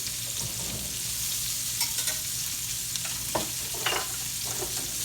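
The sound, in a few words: onions and hamburger steak browning in a skillet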